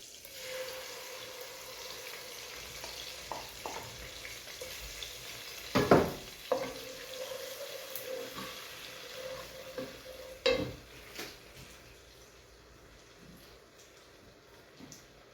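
Steady sizzling of garlic, onion and ginger paste frying in butter in a pan, with a few stirring scrapes and clinks, close up and without talk.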